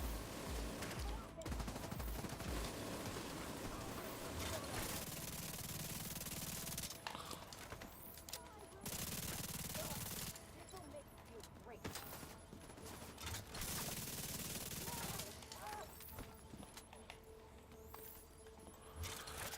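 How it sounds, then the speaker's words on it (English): Enemy turret fire in The Division 2, a dense, sustained burst of automatic gunfire that stops and starts in several loud stretches, with other game sounds between the volleys. "Gotta watch that turret."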